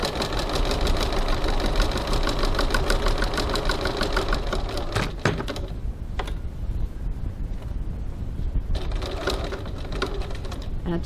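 A sewing machine runs close and loud, giving a steady rapid stitching rattle. The motor pauses briefly and then starts again for a couple of reverse stitches that lock the thread on a bag. No one speaks.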